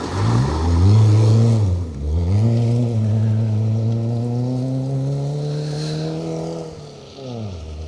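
A Peugeot 205 rally car on a forest rally stage sweeps past with a loud, rising engine note that drops briefly at a gear change and then climbs steadily as it accelerates away, with no voices.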